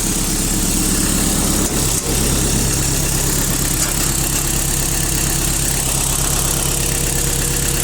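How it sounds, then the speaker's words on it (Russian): A Mitsubishi D2050 four-cylinder tractor fitted with a front blade idles close by, its steady, even diesel rumble loud and continuous throughout with no other sounds over it. "Ну и сам трактор, я думаю, отлично слышно, как работает ровно."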